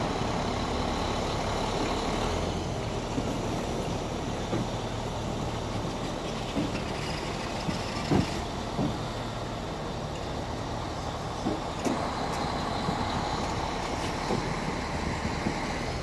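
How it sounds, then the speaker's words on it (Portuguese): A steady low rumble from a light rail vehicle's MAN diesel engine, running continuously with faint clanks and knocks, no speech. "esses VLT são equipados com motor MAN."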